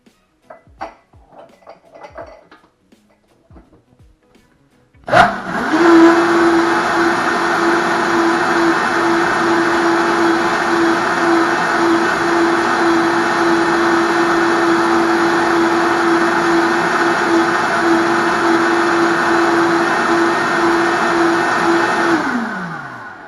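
A blender whirs into a loud, steady high-speed run, mixing ceviche ingredients including garlic, after a few seconds of faint clinks and handling. It holds an even pitch for about eighteen seconds before cutting off, with no speech.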